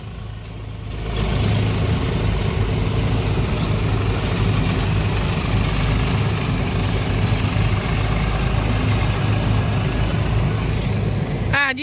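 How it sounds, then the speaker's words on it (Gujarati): A tractor engine runs on a farm ground, a loud, steady low rumble that rises in after a second and holds close throughout. "જો આવ્યું ટ્રેક્ટર"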